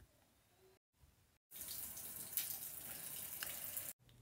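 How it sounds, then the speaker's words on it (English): Water runs from a sink tap while someone washes their face, a steady close splashing rush that starts after two quiet breaks and continues until cut off near the end. "next, I'm gonna wash my face with this"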